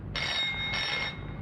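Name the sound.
telephone ringing in 1949 Bollywood film Andaz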